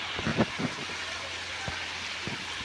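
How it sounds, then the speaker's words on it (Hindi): Heavy rain pours steadily outdoors in a rural farm setting, a constant hiss with a few soft thumps and knocks scattered through it, no one speaking. "तो गाइस बारिश आई गई जोर जोर की"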